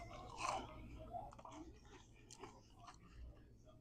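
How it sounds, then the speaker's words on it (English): Crunchy fries with spicy ketchup are chewed at a West African and Mediterranean restaurant, soft close crunching and mouth sounds in a quiet room with faint background murmur. "I don't know if you can pick up the crunch on these fries, but these are excellent."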